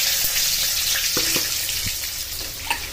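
Asafoetida, garlic and chillies sizzle in hot oil for a Gujarati moringa-flower bhaji, a steady close hiss of frying with a few small pops and clinks.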